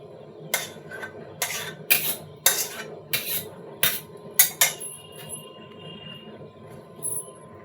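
A spoon scrapes and knocks against a pan of Bengali mango chutney in a run of about eight sharp metallic clinks, evenly spaced and close, then falls quiet with one last faint tap.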